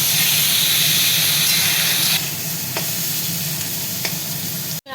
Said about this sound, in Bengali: গাজর আলুটা একটু নেড়ে নিয়ে আমি একটু দিয়ে দিলাম একটু রসুন রেস্ট করা আর পেঁয়াজ দুটো আমি চপ করে নিয়েছি। এবার ভালো করে এর সঙ্গে ভাজবো।